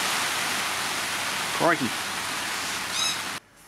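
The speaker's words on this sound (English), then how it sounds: "here comes the rain." Rain falling outdoors, a steady loud hiss of drops on surfaces throughout, with a man's brief exclamation partway through and a short whistle-like sound near the end before it cuts off.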